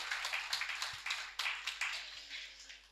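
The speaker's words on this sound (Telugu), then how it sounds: "గట్టిగా చప్పట్లు కొడదాం పత్రి సార్కి." Audience applauding for Patri sir at a meditation gathering in Naimisharanyam, Uttar Pradesh, steady clapping from a crowd heard at a moderate distance, continuous with no talk.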